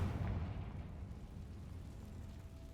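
The Confringo spell blasts in the video game Hogwarts Legacy with a deep, rumbling boom at the start that fades into a low, lingering roar. It is fairly faint and no one speaks.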